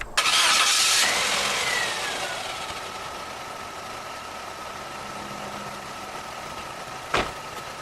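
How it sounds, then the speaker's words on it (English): A Suzuki Forenza engine cranks and fires during a motor oil flush, a loud burst of starting revs that settles within about two seconds into a steady, quieter idle, with a brief sharp click near the end. "start up the engine"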